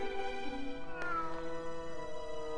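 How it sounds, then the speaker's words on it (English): Cats meowing inside the video game Grim Fandango, a drawn-out tonal meow with a caterwaul-like rise near the middle, heard over steady musical background tones, with no talking. "What do I hear? Cats."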